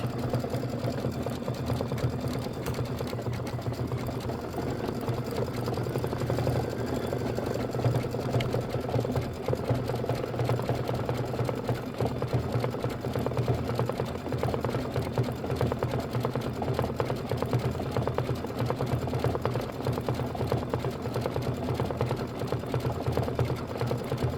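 An embroidery machine stitches the fill on a flamingo's beak in lighter pink thread for a quilt block, with a steady, continuous rapid needle buzz running close and even throughout, no voices.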